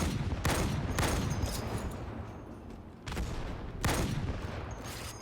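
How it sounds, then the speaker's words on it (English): Sniper rifle firing in Halo 2 Anniversary, several loud sharp shots with booming tails spaced a second or more apart over a dense background of in-game battle noise. "So it's got that lovely sniper rifle sound from the Halo 2 Anniversary campaign."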